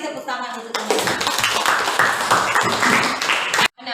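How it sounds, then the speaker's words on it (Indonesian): Students in a classroom clap for their classmates, a burst of lively, uneven clapping from a group rising after a few words of speech and ending abruptly, with voices mixed in. "Kasih tepuk tangan untuk teman-teman"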